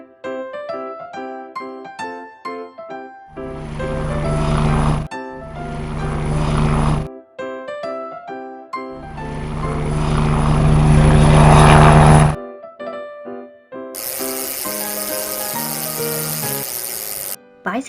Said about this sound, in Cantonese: 直升機。